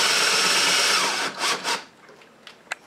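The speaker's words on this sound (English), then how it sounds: "So we're just going to screw it down." A screw is driven through a coat rack into a molly wall anchor with a steady grinding whir that stops after a little over a second. Two short bursts of tightening follow, then a faint click, all close and with no talking.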